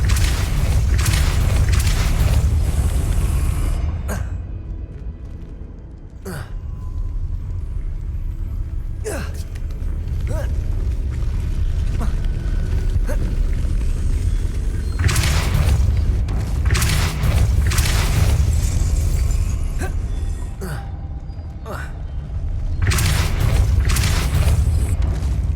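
Depulso force spell cast in Hogwarts Legacy on Xbox Series X. Loud booming game effects rumble underneath with sharp hits at intervals.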